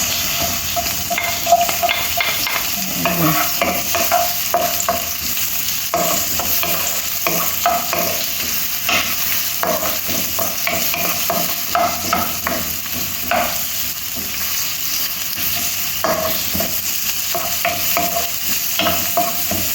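Chopped onions sauté in a hot pan as the first step toward ground beef with chayote and carrots, giving a steady, close sizzle broken by frequent scraping and clattering of a stirring spoon.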